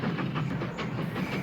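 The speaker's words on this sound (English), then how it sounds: "The mainline express, headed by a green West Country Class Pacific, thundered across the viaduct" A mainline express train headed by a green West Country Class Pacific steam locomotive rumbles across a viaduct, a dense, continuous rolling roar with faint rhythmic clatter of wheels.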